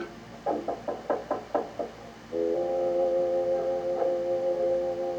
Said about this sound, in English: Knock, knock, knock.